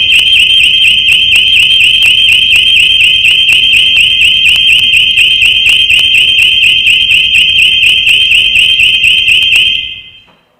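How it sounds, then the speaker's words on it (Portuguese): A loud, continuous electronic alarm shrills at a steady high pitch with a rapid pulsing rhythm, set off by a technical fault during a civil society election debate, and it stops abruptly at the end with no talking. "a gente está com um problema técnico no alarme, o alarme está disparando toda hora aí"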